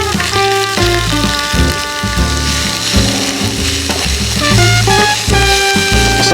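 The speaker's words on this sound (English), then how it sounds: "I'm just gonna cook up this sausage, break it up." Sausage sizzles loudly in a hot pan while being stirred and broken up, a dense steady frying crackle with scraping touches and tonal ringing from background music.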